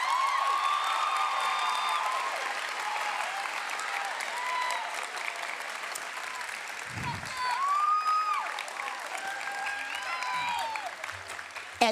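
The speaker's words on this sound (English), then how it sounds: "Let's applause." A school awards-ceremony audience at Heritage Academy Mesa applauds art students with sustained, steady clapping from a sizable crowd, moderately loud and continuous for the whole stretch, with scattered voices and a brief thump partway through.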